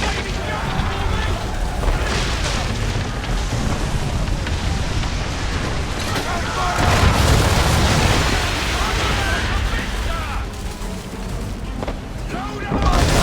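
Swivel gun cannon fire on a ship in Assassin's Creed III, heavy booming blasts rolling one after another over ongoing battle noise, with shouted commands from the crew between shots.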